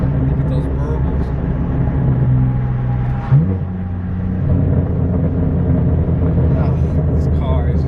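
Straight-piped BMW M4 F82 with a twin-turbo inline-6, a loud, deep steady exhaust drone and rumble with a brief burble midway, heard up close.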